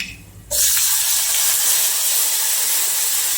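Tomato gravy hits hot oil with asafoetida and turmeric for a raw papaya curry, setting off a sudden loud, close burst of hissing sizzle that holds steady to the end.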